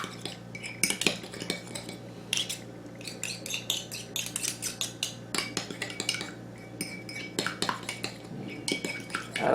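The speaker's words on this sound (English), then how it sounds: "So we're going to mix it all together." Macaroni salad dressing mixed in a bowl, a utensil clinking and scraping rapidly against the sides in busy irregular bursts, close and alone.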